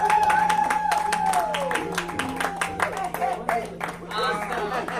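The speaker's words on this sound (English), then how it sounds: "will you please give this beautiful legend another round of applause?" Audience applause for an honoree at a comedy toy drive and awards reception, steady clapping from a live crowd filling the room, with a sustained tone over the opening seconds and cheers scattered through.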